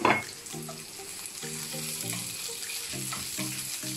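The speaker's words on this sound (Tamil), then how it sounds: "கொஞ்ச நேரம் வதங்க விடுங்க," Chopped chili peppers sauté in a pan for a prawn fry: a continuous frying sizzle with rhythmic, repeated stirring scrapes, close by and moderately quiet, with no talk.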